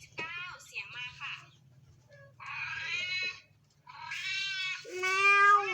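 Cat meowing in an animal sound guessing game: several loud, drawn-out meows and wails close by, coming in bursts with short pauses and rising in pitch toward the end, with faint low rumbling beneath.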